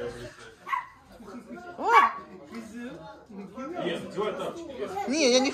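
A dog gives a few short barks and whimpering yips indoors in a home, mixed in with someone talking nearby, the dog sounds fairly close and moderately loud.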